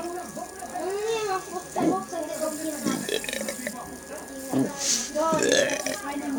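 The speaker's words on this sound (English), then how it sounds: "Burping." Several croaky, drawn-out burps from a child come one after another at close range, with short gaps between them.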